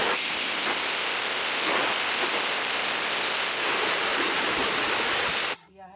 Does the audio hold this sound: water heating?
yes